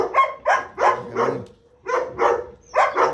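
A dog on a farm under construction barks repeatedly and loudly nearby, in bursts of two or three rough barks separated by short pauses, with a brief spoken word in between.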